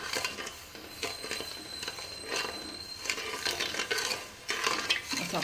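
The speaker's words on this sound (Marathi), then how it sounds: "आपण साखर विरघळेपर्यंत व्यवस्थित हलवून घेऊया." Sugar being stirred in a pan over medium heat until it dissolves for a coconut semolina ladoo syrup, a spoon scraping and clinking against the pan in repeated quick strokes, close and clear, with no talk.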